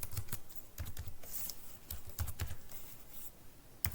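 Keys clatter on a computer keyboard as HTML code is typed, in close, uneven bursts of quick clicks with short pauses between runs and no voices.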